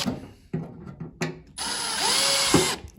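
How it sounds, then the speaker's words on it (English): A power drill boring out rivets on a rusted toolbox, starting with a few short bursts and then running in one long, steady, high whine close up, with no talk over it. "So I'm gonna try to drill them out."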